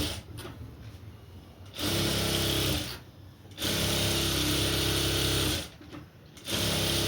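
A sewing machine stitches lining onto a frill sleeve in three loud, close bursts of rapid whirring, separated by short quieter pauses; no one speaks.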